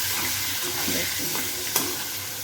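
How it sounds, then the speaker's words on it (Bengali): Potatoes frying in a cooking pan in a home kitchen, a steady close sizzle with soft stirring scrapes and one sharper utensil clink partway through. "এখন এই আলুগুলো ভাজা ভাজা করবো"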